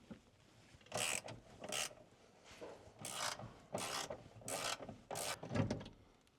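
A ratchet loosens the steering column bolts on a Chevrolet squarebody truck, giving repeated bursts of quick clicking strokes separated by short pauses, close and fairly quiet with no talking.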